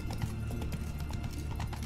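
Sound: horse hooves clip-clopping in video game Witcher 3

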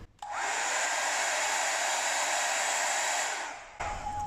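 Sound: hairdryer blowing paint in a straight line

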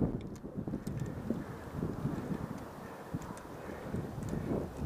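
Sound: wind blowing

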